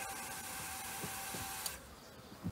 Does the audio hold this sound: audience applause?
no